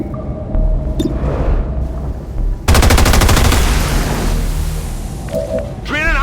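Rapid automatic gunfire bursts in the XCOM 2 War of the Chosen video game, a sustained loud rattling volley over game ambience with brief soldier voice lines.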